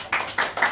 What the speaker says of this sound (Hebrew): אחת כפיים הכי יפה.